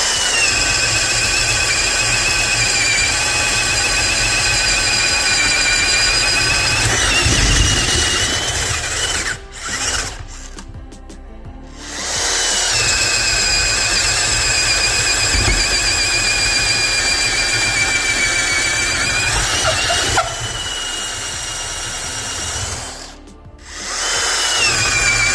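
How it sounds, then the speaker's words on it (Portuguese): A DeWalt DCD130 cordless drill bores with a 35 mm auger bit, a loud sustained whining motor drone that runs in long stretches, cutting out briefly twice before spinning back up under load. "Nesse momento a gente está usando a última broca, né? Talvez a mais difícil aí, que é a broca serpentina de 35 milímetros"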